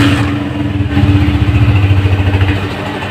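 Honda CG125 motorcycle engine catching and settling into a steady, lumpy idle after a brief start, close and clear with a regular low thumping pulse, no talking.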